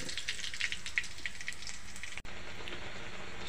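Sweet potato greens hit a pan of onion and garlic fried light red, giving a steady soft sizzle like light rain that stops abruptly for a moment, then resumes at a lower level.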